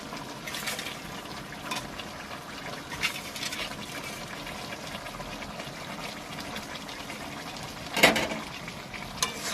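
Koi fish added to simmering cabbage in a pan, with a watery bubbling sizzle throughout, a few spoon scrapes, and a louder splash and clatter near the end.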